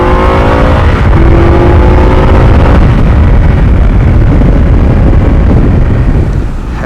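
An Indian 101 Scout motorcycle engine accelerating hard, a loud, rising roar heavily buffeted by wind noise while riding, with no talking.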